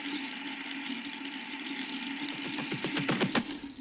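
Water gushes and leaks in a MAD cartoon segment, a steady rushing flow with a low hum that grows busier and splashier toward the end, heard alone without voices.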